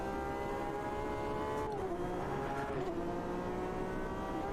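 Porsche 911 RSR GTE race car in Automobilista 2 at Imola, a loud, steady engine drone holding high revs, then two quick drops in pitch as it shifts, with no talk.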